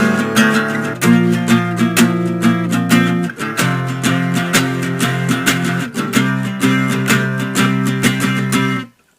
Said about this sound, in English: So altogether the chorus sounds like this.